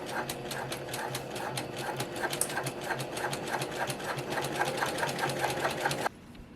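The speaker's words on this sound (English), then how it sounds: "we are going to stitch across the clipped edge at our regular seam allowance" A sewing machine stitches across the clipped edge of a quilted bag's slip pocket lining, a fast even mechanical chatter running steadily and close for about six seconds before stopping abruptly.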